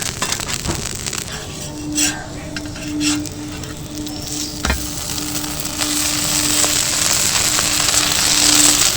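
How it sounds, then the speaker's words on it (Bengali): A potato snack roll fries in butter in a pan, giving a steady close sizzle with faint scraping and utensil clinks, and the hiss swells slightly toward the end. "পুরো জিনিসটা বাটার দিয়েই ভাজা হচ্ছে"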